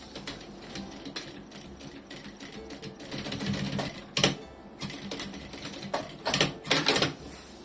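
A sewing machine stitches a seam along the edge of synthetic lining fabric for a zippered pouch, running in close bursts of rapid needle clatter with brief pauses between runs.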